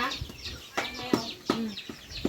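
Chickens cluck close by, a few short rhythmic clucks and calls in a farmyard, moderately loud with faint background noise.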